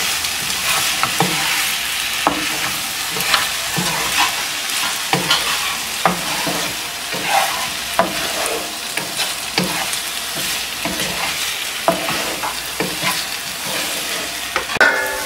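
Red spinach stir-fried with fried mola fish in a pan, with a continuous loud sizzle and regular stirring strokes and scrapes, heard alone and close.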